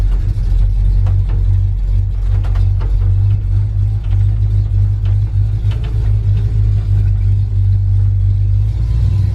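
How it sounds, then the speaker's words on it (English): A new truck climbing a hill under throttle, its engine giving a steady, loud low rumble that swells slightly as it accelerates, continuous and close throughout with no talking. "I'm on kind of a hill, gotta give it some gas."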